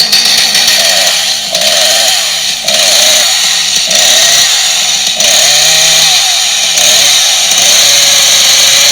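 A loud chainsaw sound effect runs without a break, its engine snarling with small pulses in pitch as if biting into wood, close and alone with no voices.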